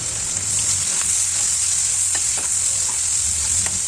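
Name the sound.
onion and green chillies frying in oil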